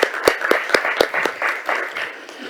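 An audience applauds at the close of a talk on the socioeconomic transition, a burst of moderately loud clapping with a few sharp, prominent claps at first that settles into a denser, fading patter.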